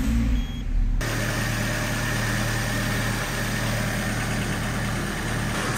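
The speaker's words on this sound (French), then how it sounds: "On va démarrer l'auto." A Peugeot 206 CC engine cranks briefly and catches, then settles into a steady, close idle with a low vibrating rumble that continues without talk.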